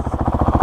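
A 2020 Honda CRF450L motorcycle runs with its exhaust off to the right, giving a close, steady pulsing thump of regular firing beats across a brief moment.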